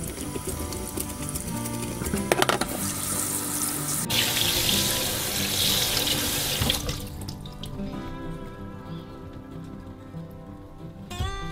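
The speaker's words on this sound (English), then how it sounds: "Clean the fish under running water to prevent unwanted splattering." Tap water runs steadily into a sink as a kinmedai (golden eye snapper) is rinsed under it, a loud continuous splash whose texture shifts as the fish moves through the stream.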